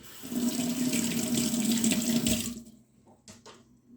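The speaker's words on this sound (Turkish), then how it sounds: "Şu ellerini yıkayayım" Hands are washed under a running kitchen tap, a steady loud water stream splashing into the sink for over two seconds, then cutting off, followed by a few faint drips and small clinks.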